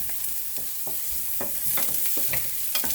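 Steady sizzling of onions sautéing in a hot pan, with occasional scraping stirs, close and fairly loud, no talking.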